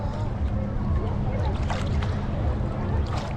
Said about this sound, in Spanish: ahí va una moto acuática con la gente sentada en un sofá con forma de, pues de pato